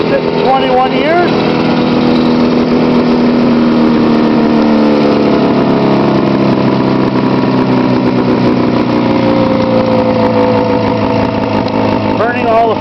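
An old engine runs again after sitting unused for 21 years, a loud, close, steady mechanical drone with a rough edge, and a voice speaks over it.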